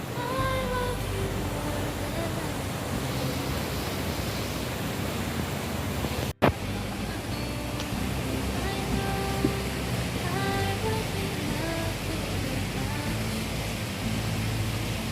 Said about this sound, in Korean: 지금 여기는 진짜 봄이고 여름이 오는 관계로 이런 시원한 분수가 어, 엄청 시원하게 보이네요